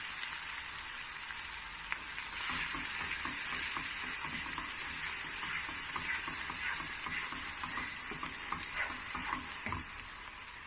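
Paprika is stirred into a Bangladeshi-style vegetable curry frying in a pan, giving a steady close sizzle with repeated scraping and tapping of the spoon against the pan.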